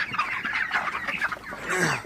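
Broiler chickens on a farm before sale cluck and murmur in a brief, close, steady stretch of overlapping calls.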